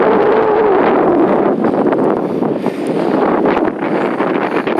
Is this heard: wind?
yes